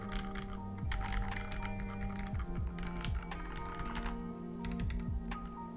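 Typing on a WhatGeek Dukharo VN96 mechanical keyboard with muted, dampened switches and stabilizers lacking lube, producing steady close key presses in a continuous flowing rhythm, alone without speech.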